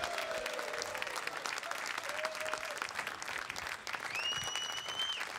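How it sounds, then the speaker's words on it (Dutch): A crowd at an anniversary talk show gives a band steady, moderate applause, with cheers and a couple of whistles rising above the continuous clapping. "Geef ze een applaus."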